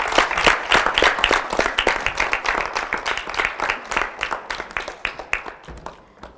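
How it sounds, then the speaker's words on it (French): Applause from a studio audience at a youth debate show as Estélie is escorted off, loud and close with distinct individual claps standing out in a rhythmic pattern that gradually thins and fades. "on va raccompagner Estélie sous des applaudissements"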